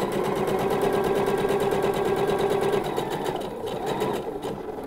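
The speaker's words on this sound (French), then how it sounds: "Je fais mes points d'arrêt" A sewing machine runs a kimono blouse seam in a steady, rhythmic close-up rattle of rapid stitches that slows slightly near the end.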